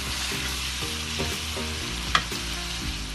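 Minced meat frying in a karahi with cumin and nigella seeds, a steady loud sizzle with stirring scrapes and one sharp clink, no voices.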